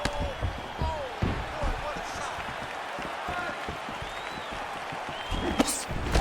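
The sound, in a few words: fight crowd reacting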